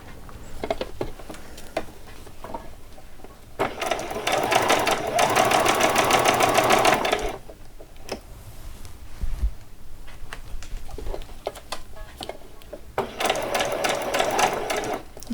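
Sewing machine stitching the waistband of an old dress being upcycled, loud close bursts of rapid mechanical needle chatter that stop and restart, with quieter pauses and faint handling noises between runs.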